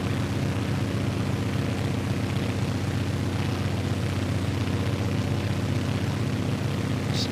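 A Grumman G-21A Goose twin-propeller amphibian in Microsoft Flight Simulator drones steadily over New York City, a constant loud engine hum with no breaks and no voices.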